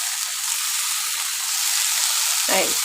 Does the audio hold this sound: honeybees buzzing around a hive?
no